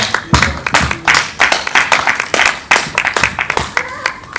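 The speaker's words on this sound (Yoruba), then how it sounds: "Ẹ dákẹ́ pàtẹ́wọ́ fún ìyá wa." An audience claps for someone speaker at a Yoruba-language gathering, producing close, loud, rapid claps in uneven bursts that continue steadily.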